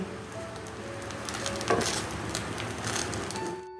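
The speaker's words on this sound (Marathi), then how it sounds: "आता यात मी ड्रायफ्रूट टाकते आणि व्यवस्थित मिक्स करून घेते" Dry fruits being stirred into cooked coconut rice (narali bhat), a soft continuous sizzling, scraping rustle with a brief louder scrape midway, close and steady with no talk.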